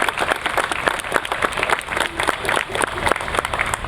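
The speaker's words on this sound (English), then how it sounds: "Let's give them a round of applause." Audience applause at a dedication ceremony for a justice center tower, many hands clapping in a lively, uneven patter close by, with crowd murmur and voices mixed in throughout.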